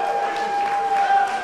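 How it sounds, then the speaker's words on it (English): Wrestling fans on their feet cheering a new NECW Heavyweight Champion, a steady dense roar of crowd noise and applause with a sustained tone running through it. "Listen to these fans. They're on their feet here, cheering for Slick Wagner Brown."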